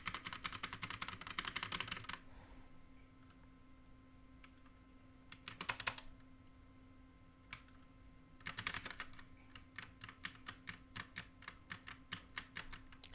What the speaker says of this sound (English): I love how clickety-clacky my keyboard is.